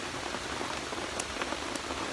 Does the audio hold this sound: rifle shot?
no